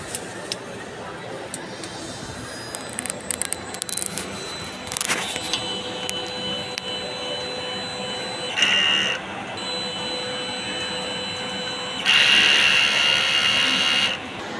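A DTF printer whirs and clicks nearby during print head cleaning, with mechanical servicing noises, brief high whines and bursts of motor hum against a quiet background.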